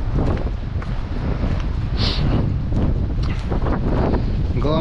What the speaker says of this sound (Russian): А то просили ветра, на тебе ветер